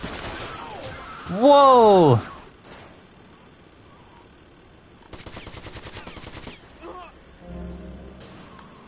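Gunfire in the video game GTA Vice City: a rapid burst of automatic shots rattles for about a second and a half, following a loud exclaimed voice, with game sounds around it.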